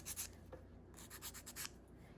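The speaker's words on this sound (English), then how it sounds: "You can go ahead and file it to become smooth." Handheld file smoothing a gel-coated dip powder nail, soft rapid scratchy strokes in short bursts, close and quiet with brief pauses between passes.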